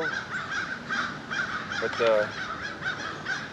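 Several crows caw repeatedly from a middle distance while mobbing a seagull outdoors, harsh calls recurring in an uneven rhythm over a steady background hiss, with one short spoken word.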